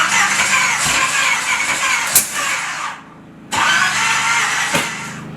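A 1965 AMC Marlin engine cranks and catches, running rough with sharp pops, dropping briefly to near quiet, then firing up again loud and close with more uneven bursts.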